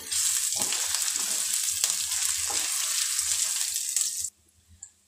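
Garlic-ginger paste roasting in hot oil with star anise and a cinnamon stick for spicy matar pulao, giving a loud, close, continuous sizzle with stirring scrapes that cuts off abruptly near the end, leaving near-quiet.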